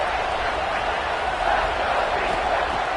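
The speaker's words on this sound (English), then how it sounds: "here comes the noise. This crowd is trying to inspire this defense to make a big red zone stop." A football stadium crowd roars as fans try to lift the home defense before a red zone stop. The noise is a loud, dense, continuous wall of sound with no clear breaks.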